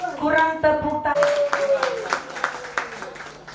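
A church congregation at a thanksgiving service claps hands in a regular rhythm, the sharp claps sounding beneath a prominent singing or speaking voice that glides and fades partway through.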